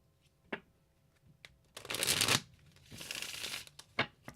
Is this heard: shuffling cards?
yes